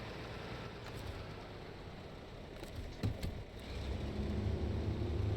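A truck engine drives in the video game SnowRunner, a low, steady rumble that builds louder toward the end, with a few faint clicks along the way.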